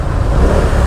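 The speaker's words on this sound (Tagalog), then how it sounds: "Naipit tayo dito sa traffic." Road traffic stuck in a jam in the Philippines, heard from a 250cc inline-four sports bike, with a loud, steady low rumble of idling engines close by and no talking.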